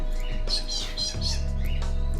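Birds squawk and chirp in a few loud, bright bursts over a steady low electrical hum, fairly close and without any voices.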